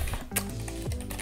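Quick keystrokes on a computer keyboard, entering an email address into a web sign-in form, come as a short, close run of taps with no voice over them.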